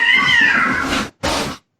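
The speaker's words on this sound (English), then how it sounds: "Cats are going crazy over here." Cats meowing and caterwauling nearby: a loud, drawn-out wavering yowl followed after a short gap by a second shorter cry.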